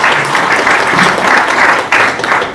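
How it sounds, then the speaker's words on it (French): Loud applause from an audience at a spoken talk, a dense continuous clatter of hands that swells in waves and briefly dips before rising again. "Et si on va applaudir."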